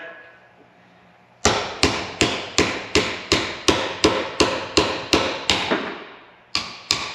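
A hammer drives a socket on an extension to knock out a bushing. Sharp metallic strikes land in a steady rhythm, about a dozen close, loud blows, then a short pause and two more hits.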